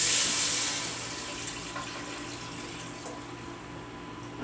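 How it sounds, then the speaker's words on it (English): Water pours into a soup pot for Italian wedding soup with a loud rushing splash at first that settles into a quieter, steady trickle. No one talks. "Alright, going to add our water in."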